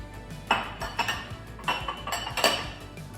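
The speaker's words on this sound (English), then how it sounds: "We're going to take 3 carrots that I've chopped up and just dump that in." Chopped carrots tumble into an Instant Pot in a home kitchen, a handful of clattering knocks and clinks against the metal pot, close and unaccompanied by speech.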